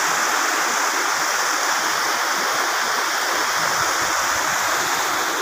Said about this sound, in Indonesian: airnya deras.